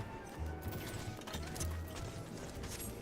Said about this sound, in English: Look at my horse.